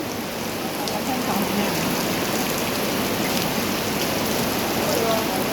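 Heavy rain pours down steadily, a dense, unbroken hiss of drops hitting surfaces close by.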